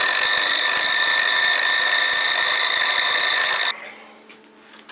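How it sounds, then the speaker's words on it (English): A 4mm drill bit bores a hole in a model engine cylinder during port finishing, giving a steady high-pitched whine for several seconds that then cuts off, leaving faint rattling and handling noise. "So I drill a 4mm hole."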